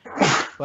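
A single sharp human sneeze bursts out close to the microphone, a short explosive burst followed by a brief voiced tail, heard alone in under a second.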